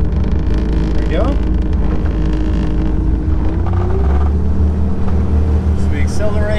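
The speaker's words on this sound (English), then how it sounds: "Accelerate the boat onto plane." A 2004 Tahoe Q4 Sport Fish boat's engine roars up close as it accelerates onto plane, with heavy wind buffeting the microphone.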